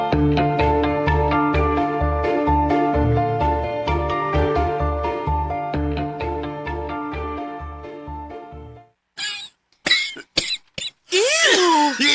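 After a stretch of music, a person coughs several times in short, harsh bursts, close and loud.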